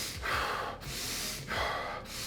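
Heavy, forceful breathing during a breathing exercise, close to the mic, with two long, hissing inhale-exhale cycles separated by brief pauses and no talk.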